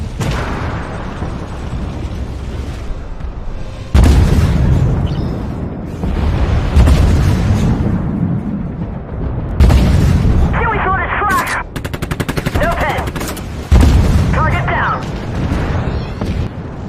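Merkava 2B Tier 6 Israeli main battle tank firing its main gun in the video game Armored Warfare: several loud booming cannon shots at irregular intervals over constant engine rumble, with game effects and bursts of speech in between.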